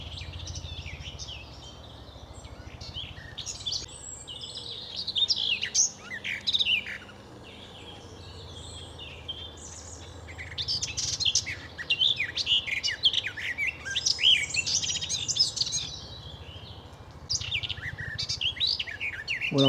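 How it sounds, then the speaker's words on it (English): A warbler sings from cover behind leaves on a late-April countryside walk between Canterbury and Sturry, its bright, busy phrases repeating steadily over the whole stretch with other birdsong mixed in and no talking. "that's a warbler of some kind"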